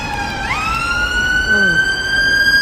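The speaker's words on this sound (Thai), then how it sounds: "โอ้เสียงรถพยาบาล" A nearby ambulance siren in Thailand wails close by, its pitch sweeping upward and then holding a loud, steady tone.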